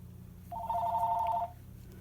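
A telephone rings once with a brief electronic trill on an incoming telemarketer call, standing clearly above a quiet room hum.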